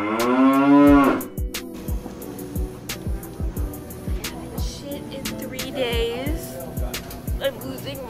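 A person imitates a cow with one loud, drawn-out moo up close, followed by quieter scattered clicks and background noise.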